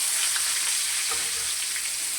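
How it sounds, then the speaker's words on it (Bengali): Steady hissing sizzle of chopped onions frying in hot oil until reddish-brown, continuous and fairly close, with no talking. "ভালো করে লাল লাল করে ভেজে নেব"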